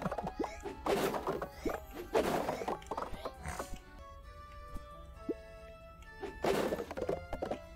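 Objects being smashed while wrecking a dorm room in the Kraken Academy video game: a few loud thwacks and crashes in quick clusters, a quieter stretch with faint game music, then another burst of impacts.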